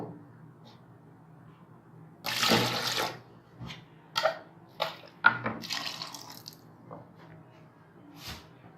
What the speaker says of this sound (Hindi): ये पानी अब हम और ऐड करेंगे इसमें